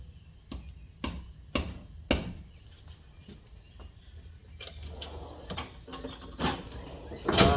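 A hammer strikes a center punch on an engine part during an R32 GTR single-turbo build, giving a series of sharp metallic taps at irregular intervals with quieter shop handling noise between them.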